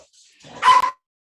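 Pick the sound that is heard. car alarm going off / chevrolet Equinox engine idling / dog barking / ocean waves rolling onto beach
dog barking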